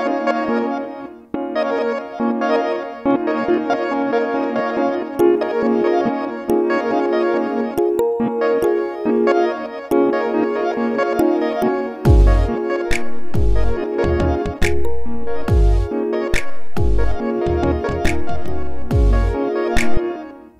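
Drum loop clip from a laid-out scene playing back in Ableton Live alongside other song parts, a steady rhythmic pattern with punchy low kicks becoming prominent midway, loud and continuous with no talking.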